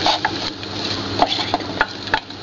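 Flour mixture being stirred in a pot on low heat, a continuous near scraping broken by several light taps and clacks of the spoon against the sides.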